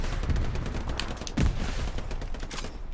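Gunfire in the World War II shooter Hell Let Loose: a rapid volley of shots crackling through a short stretch, with one louder, heavier close shot near the middle, over a dense background rumble.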